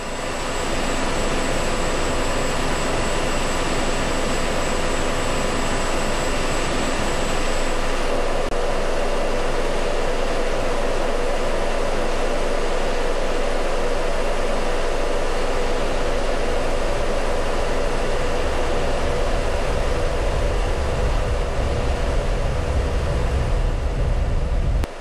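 An F-16 Viper jet roars through its takeoff on a runway, a loud continuous broadband engine rumble that holds steady and deepens toward the end, with no voices.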